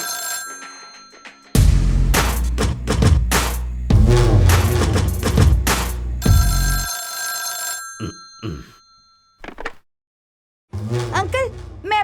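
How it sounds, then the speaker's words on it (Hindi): Telephone ringing in a house, its bell trilling in loud bursts between scene sounds, with people talking around it and a thud. "डैडी फोन बज रहा है डैडी।"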